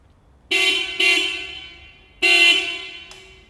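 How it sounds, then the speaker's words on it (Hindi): A Honda H'ness CB350 motorcycle horn honks several times, loud and close: two short blasts, then a longer one and a brief final toot. "अब ये मैं हॉर्न की बात कर रहा हूँ तो आपको ज़रा बजा करके भी दिखा देता हूँ एक बार"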